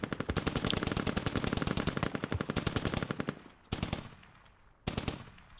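Rapid, heavy .50-caliber machine gun fire in the video game Squad rattles continuously for about three seconds, then breaks into two shorter bursts separated by brief pauses.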